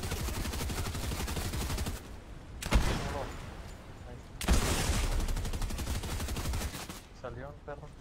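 Rapid bursts of video game gunfire crackle loudly in dense stretches, broken by sharp single impacts, with a player talking excitedly over the shooting.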